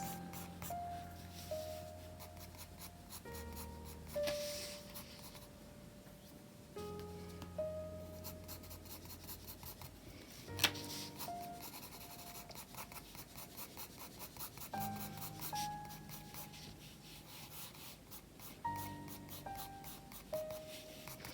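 Graphite pencil, a soft 2B, stroking across paper while shading furry guinea pig patterns, giving repeated soft scratchy strokes in short bursts, close and fairly quiet, with brief pauses between passes.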